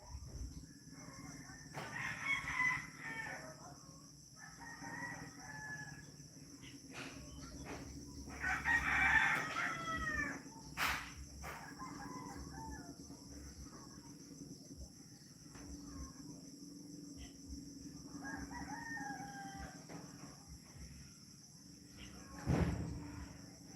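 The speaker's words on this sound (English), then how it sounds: "It's our chicken coop down there." Roosters crowing and hens clucking from a backyard chicken coop in Bohol, Philippines, several distinct calls at moderate distance over a steady insect drone.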